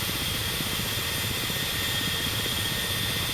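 Ka-50 helicopter engine and rotors in the DCS flight simulator, a steady, dense roar and whine running continuously at even loudness with no talking.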